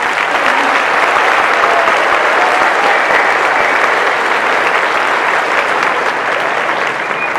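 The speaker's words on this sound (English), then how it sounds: "can we give a round of applause?" Sustained applause from an outdoor school convocation audience, a dense, steady wash of many hands clapping at full strength throughout with no break or fade.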